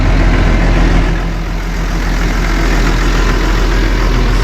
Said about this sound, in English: I got our biggest tractor here hooked up with an 8-foot earth